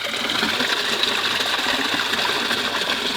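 Green water pumped out while a filter is cleaned, a continuous close gushing flow of liquid that holds steady for about three seconds without voices.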